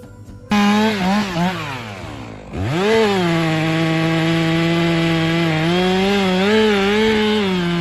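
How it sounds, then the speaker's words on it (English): A chainsaw runs loud and steady, felling a tree, its engine pitch dipping and rising as it bites into wood, with a brief pause before revving back up. "This worker is using a chainsaw to fell the tree."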